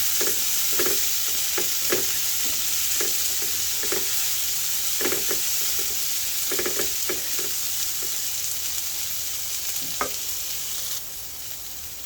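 White onions sauté in hot oil for Filipino stir-fried bitter melon, a steady loud sizzle with repeated scraping stirs of a spatula against the pan.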